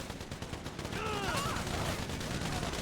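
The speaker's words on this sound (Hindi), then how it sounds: "गोलियां क्यों चला रहे।" Rapid gunfire in GTA 5 erupts as a dense, continuous clatter of shots through the second half, preceded by busier game noise and distant chatter, with a few faint sweeping tones mixed in.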